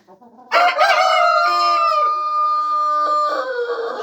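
Roosters in a chicken coop let out a loud, close crow that rises, holds and trails off over a few seconds, with soft clucking just before it and no talking.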